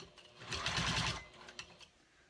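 Juki 2000 QI sewing machine top stitching, a short close burst of rapid rhythmic stitching lasting under a second, then a few faint clicks.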